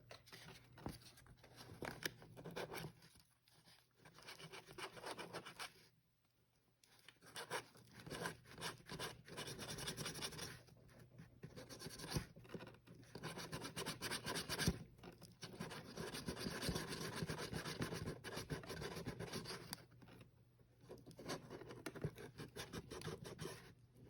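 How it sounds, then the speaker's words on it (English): Sandpaper is rubbed by hand over an uneven spot on an ASG EVO Scorpion airsoft part, giving quiet, close scratchy strokes in repeated bursts separated by brief pauses. "so I'm gonna take my sandpaper"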